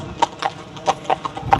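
Horse hooves clip-clop in a quick, uneven rhythm as horses are loaded into a vehicle, about six close, distinct strikes over faint background noise.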